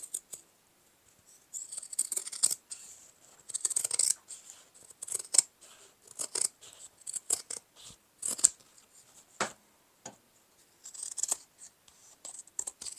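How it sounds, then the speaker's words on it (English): Scissors snipping away excess lining from woven tapestry-like fabric, a series of crisp, close cuts in irregular bursts separated by brief pauses, with no voices. "I'm going to break out the scissors and do a spot of trimming."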